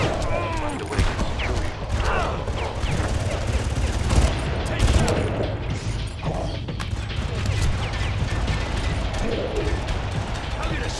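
Far Cry gunfire in a firefight with elite troopers near an elevator: rapid mechanical weapon clatter and bursts of shots mixed with ratcheting reload sounds, close and dense, with someone talking throughout.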